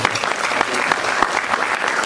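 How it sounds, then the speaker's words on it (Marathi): Steady applause from an audience at a scholarship award ceremony, a dense sustained clapping that fills the whole moment without pause. "त्यांनाही टाळ्या वाजून"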